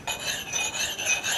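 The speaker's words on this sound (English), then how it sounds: "The next thing that I will do is I'll take a carborundum stone" A carborundum stone rasps steadily across the bit edge of an axe, a continuous close scraping with short rhythmic strokes and no talking.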